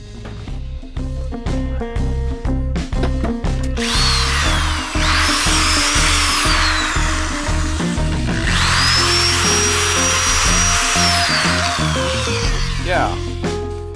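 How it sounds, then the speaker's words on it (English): An electric drill runs after its power cord was repaired, whirring in repeated bursts that rise and fall in speed, loud and close, with clicking handling sounds at the start. "I now have a safe, functional drill."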